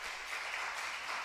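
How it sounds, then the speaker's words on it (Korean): A church congregation applauds during a Sunday intergenerational worship service to encourage a youth, a steady, fairly quiet wash of many hands clapping with no voices over it. "우리 박수로 한번 격려해 줄까요?"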